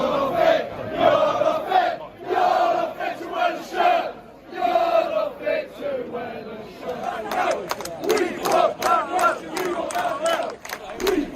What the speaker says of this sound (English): That's just a little bit of the flavour of the protests that went on for quite a long time